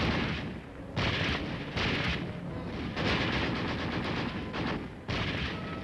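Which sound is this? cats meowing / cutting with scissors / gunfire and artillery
gunfire and artillery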